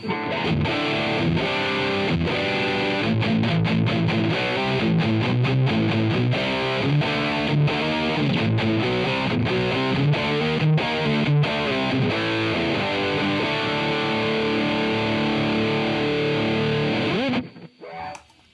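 Heavily distorted electric guitar played through the AmpliTube 5 amp simulator, a dense, continuous stream of crunchy chords and notes that is loud and sustained before cutting off sharply at the end.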